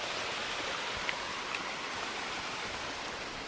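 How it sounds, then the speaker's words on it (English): Water streaming down a hiking trail in the foothills, a steady broadband rush with no pauses, close and fairly loud throughout, with no voices over it. "there's a water slide coming down"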